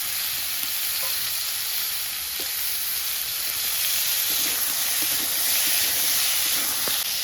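Potatoes and chopped onion fry in a pan with a steady, loud sizzle and hiss, broken by a few faint stirring clinks throughout.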